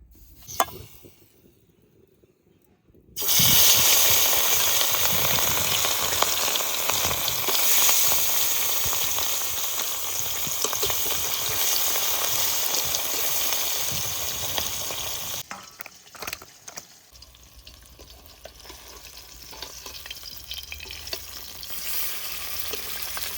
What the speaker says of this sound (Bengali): তেল গরম হয়ে গেছে এবার মাছ দিয়ে দেবো